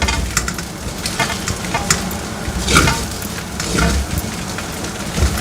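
Paneer tikka noodles are stirred in a hot pan, with a continuous close sizzle and repeated scraping and tossing strokes in an uneven rhythm.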